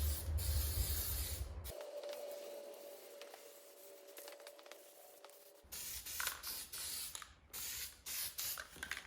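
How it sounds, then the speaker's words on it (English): A spray can lays a light coat of primer on a John Deere LA165 lawn tractor part, with hissing bursts, a steadier sustained spray in the middle and several short sharp spurts at the end, close up. "I'm going to put a light coat of primer on it."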